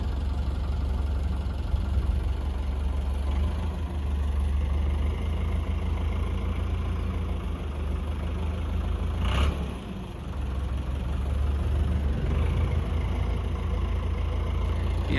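Kubota AR60 rice combine harvester engine idles steadily with a deep, even rumble and a slight knock, close and continuous, dipping briefly once before settling back.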